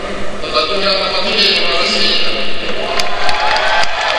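An audience at a women's weightlifting championship cheers and applauds in a hall, a steady wash of crowd noise heard under a commentator's voice.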